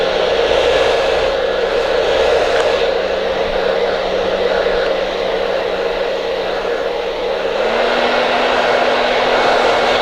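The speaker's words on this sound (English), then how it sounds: "start blow drying the heck out of it" A handheld blow dryer runs steadily on a short A-line bob undercut, a loud continuous whooshing roar of air that shifts slightly in pitch near the end as the setting changes, with no talking.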